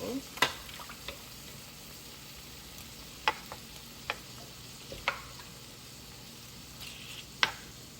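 Shrimp with garlic cooking in a pan over medium-high heat give off a steady, quiet sizzle, broken by a few sharp clicks and taps of a utensil against the pan.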